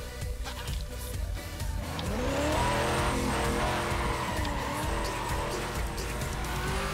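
A Corvette in a racing video game revs hard with rising engine pitch and squealing tires, loud and continuous, with a faint voice underneath.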